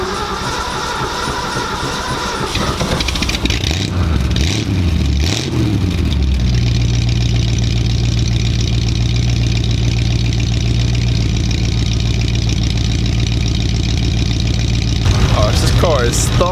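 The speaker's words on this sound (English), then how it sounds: "Car is thumping on a cold start this morning." A car with a thumping cold start and a squeaking throwout bearing turns over and settles into a loud, steady low idle that carries on for about ten seconds, close by.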